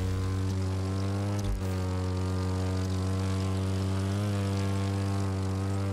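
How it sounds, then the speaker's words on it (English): Propeller airplanes taking off in the racing game The Crew 2 at its version of Las Vegas McCarran International airport, a steady loud engine drone with stable harmonic tones and slight pitch shifts, no talking. "Oh, we got 2 planes taking off."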